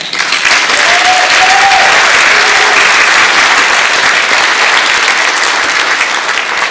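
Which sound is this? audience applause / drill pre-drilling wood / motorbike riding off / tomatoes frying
audience applause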